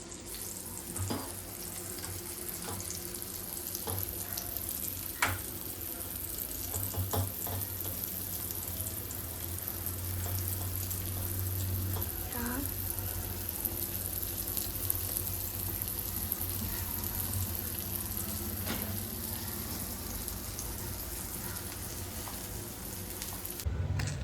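Bombil, or Bombay duck fish, fries in a pan with a continuous, moderately quiet sizzle that lasts the whole time. Occasional light clinks and faint kitchen sounds mix in.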